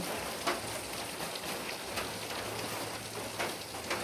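Heavy rain pours down in a dense, continuous hiss, with occasional louder splashes and a faint low hum underneath.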